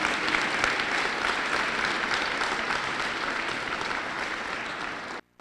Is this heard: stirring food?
no